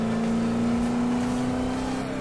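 A Porsche engine in the racing game Need for Speed hums steadily at a sustained pitch, with a faint whir and no speech over it.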